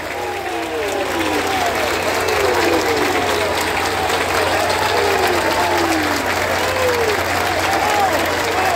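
Sustained crowd applause for a commander at a São Paulo Guarda Civil Metropolitana event, dense and steady for several seconds, with rising whistle-like cheers scattered through the clapping.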